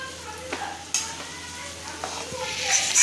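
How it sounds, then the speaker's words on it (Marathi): Ground corn is stirred as it fries in a pan, giving a soft sizzle under scraping and tapping strokes of a spoon against the pan, with a faint voice in the background. "आणि आता हे वाटून घेतलेला मका घालूया आपण चांगला हलवून घ्यायचं"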